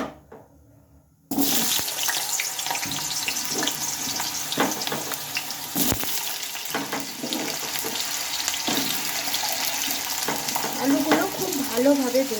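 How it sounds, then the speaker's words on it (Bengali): Potatoes drop into hot oil after a quiet start, setting off a sudden, loud, continuous sizzle and crackle that carries on close by, with occasional stirring clatter. "তেলটা গরম হয়ে গেলে আমি আলুগুলো আগে ভেজে নেব"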